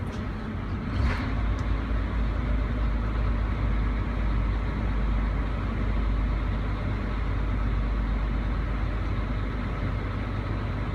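A Claas Jaguar 980 twin-motor forage harvester with a PU 380 pickup head runs with its second engine started, giving a steady deep diesel rumble and drone, loud and unbroken, with a brief clank near the start.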